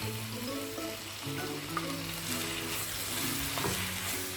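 Chopped vegetables and onion frying in a pan for chicken jalfrezi, a steady sizzle with occasional stirring clinks, under soft background music.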